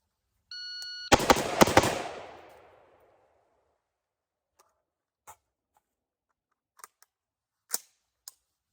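An HWU Saturn 4x32 fires four rapid shots, a tight, loud cluster of sharp reports close by that rings out briefly and then fades. Faint clicks and ticks follow in the quiet.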